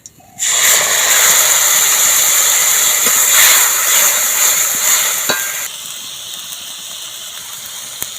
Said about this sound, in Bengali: ভাজা হয়ে গেছে এখন দিয়ে দেবো টমেটো বাটা